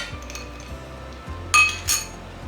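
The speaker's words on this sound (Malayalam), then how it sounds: "ice cubes," Ice cubes drop into a juicer jar, two sharp clinking knocks close together over a quiet background.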